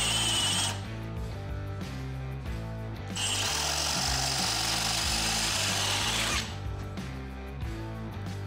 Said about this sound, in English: is going to drill the holes for the actual supports for the bicycles